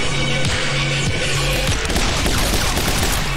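Rapid bursts of gunfire from the action game My Friend Pedro, a dense loud fusillade of overlapping shots that thins into scattered echoing reports.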